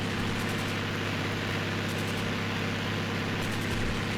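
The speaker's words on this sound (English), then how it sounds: "we've got so many engines revving just because of our movement here." Tank engines running in the war game Armored Brigade, a dense, steady low rumble with a constant hum and layered mechanical drone held at even loudness throughout.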